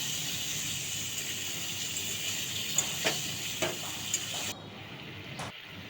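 Jackfruit cooked with spices and a little water, stirred in a pan, giving a steady soft sizzle with a few spoon knocks before it cuts off near the end.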